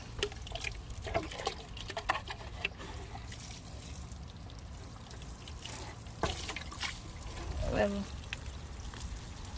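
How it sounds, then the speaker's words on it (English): Water is sprinkled over freshly planted summer seeds in soil, a soft steady trickle and patter running throughout at low level, with faint background noise and no clear talk. "now I'm going to sprinkle the water all over these seeds"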